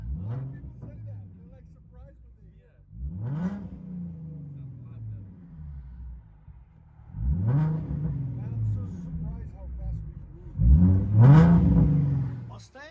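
A 2017 Ford Mustang 3.7L V6 with a true dual straight-pipe exhaust revs repeatedly as heard from inside the cabin, a deep droning swell climbing and falling in several bursts, the last one loudest.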